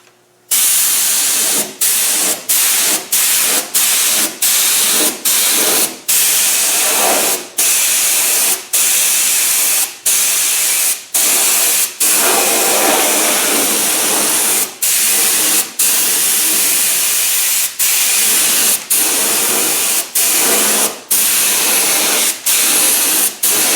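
Paint spray gun hissing steadily over an aircraft air intake repair, long continuous bursts broken by many brief pauses, loud and close with no talk.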